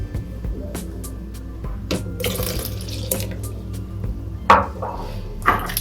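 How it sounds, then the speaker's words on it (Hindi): Leftover milk poured into a blender jar of ground banana for a milkshake, a splashing liquid pour with clinks of the jar, close and fairly loud. "अब हम इसके अंदर जो बचा हुआ दूध था वो दूध भी डाल देते हैं।"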